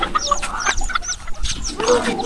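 A mother hen clucks in short, repeated bursts close by, with scattered chicken calls and a few faint background sounds between them.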